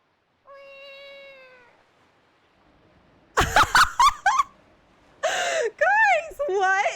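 Link, the hero of the video game Wind Waker, lets out a single drawn-out cat-like meow, a voiced imitation of a cat, followed by a speaker gasping and exclaiming in surprise.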